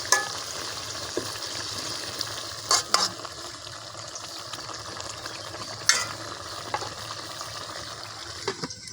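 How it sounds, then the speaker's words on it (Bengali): Ivy gourd stems and leaves with potatoes stir-frying in oil in a pan, a steady soft sizzle broken by occasional spatula scrapes and clinks, with no talking. "পুরো আমার এই যে তেলাকুচার ডাটা এবং আলু কষানো হয়ে গেছে"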